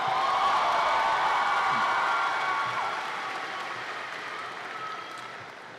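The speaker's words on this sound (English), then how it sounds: "Give her another round of applause." Graduation audience at David W. Carter High School's 2017 ceremony applauding steadily, a broad wash of clapping from a large crowd that holds loud and then eases slightly toward the end, with no talk over it.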